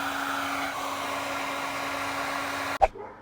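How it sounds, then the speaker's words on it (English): A heat gun blows steadily while drying a wet L&N railroad lantern after electrolysis rust removal, a constant airy whoosh with a low hum that cuts off abruptly near the end with a short clatter. "This is a heat gun."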